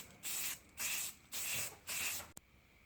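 Four short, evenly spaced hisses of a spray gun laying primer filler onto car parts, each stroke lifting off before the next, followed by a sharp click; fairly faint and with no talk.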